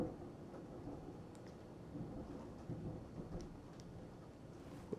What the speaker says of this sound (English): Storms is going crazy.